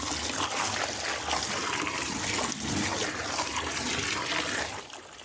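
Water pouring steadily into a container set up for soaking swimming pool cartridge filters with cleaner, a continuous rushing fill that eases slightly near the end.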